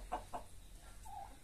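Local chickens cluck softly in a village yard, two quick short clucks followed by a brief drawn-out call, faint and at a distance with no talking.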